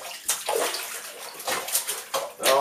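Clothes are scrubbed by hand in a tub of water, producing several separate bursts of splashing and sloshing, close by, with short quiet gaps between them.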